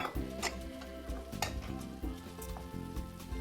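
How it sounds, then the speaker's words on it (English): Beans, tomatoes and spices are tossed and stirred into a pan with gnocchi, a soft sizzle running under irregular scraping and clinking of the utensil against the pan, fairly quiet and close. "we're gonna go ahead and throw in the beans, the tomatoes, and the rest of the spices"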